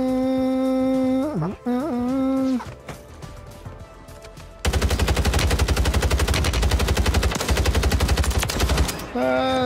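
Gunfire rattles in Call of Duty Warzone: a long, loud, rapid burst of automatic fire in the second half, preceded by tonal game effects and quieter shots.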